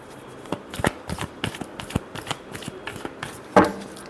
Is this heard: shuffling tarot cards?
yes